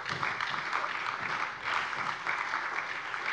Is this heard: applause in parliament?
yes